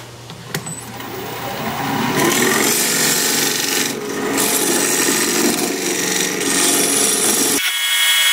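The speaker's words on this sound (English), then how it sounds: "I'm going to use my recess tool to put a dovetail on the side here" Recess tool scraping a dovetail into a spinning piece of wood on a wood lathe: a continuous loud rasping, grinding cut over the lathe's hum that runs for several seconds and then stops abruptly.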